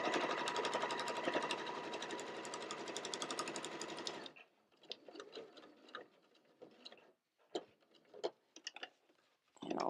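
A sewing machine stitches along the edge of a pot holder in a fast, steady mechanical whir, then breaks off into short separate bursts of stitching with quiet gaps between.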